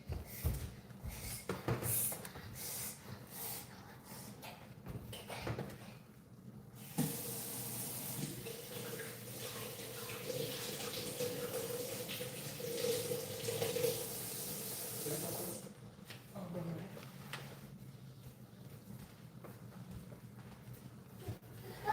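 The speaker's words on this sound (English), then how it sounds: "You want to wash your hands?" A kitchen tap runs for hand washing, a steady hiss of flowing water for several seconds, fairly quiet, with clattering and handling noises before and after.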